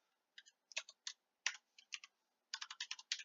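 Typing on a computer keyboard while writing Python code: quick close-up key clicks in short bursts with brief pauses, ending in a denser run of rapid keystrokes, with no talking.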